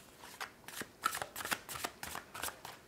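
Tarot cards being shuffled by hand, a run of crisp riffling bursts repeating in quick, uneven rhythm, close and fairly quiet with no talking.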